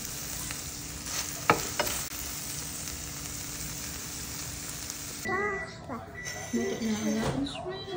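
Butter garlic shrimp sizzles and is stirred in a pan, a steady crackling fry with a few sharp utensil clinks, and someone talks over it in the later part.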